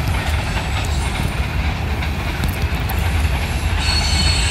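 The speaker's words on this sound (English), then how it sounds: "Norfolk Southern train on one of the Norfolk Southern lines in Dillonville," A short Norfolk Southern grain local freight train rolls past in Dillonville, Ohio, a steady loud rumble of rail cars with wheel squeal and faint clacking throughout, no voices.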